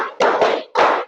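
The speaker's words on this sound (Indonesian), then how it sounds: "2 kali tepuk 5." A group in a classroom training session claps in rhythm: two loud, crisp bursts of many hands striking together, close and distinct, with a short gap between them.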